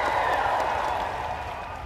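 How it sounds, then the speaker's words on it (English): A crowd applause effect plays: a dense, steady wash of clapping that fades slightly toward the end, with no voices over it. "For the applause."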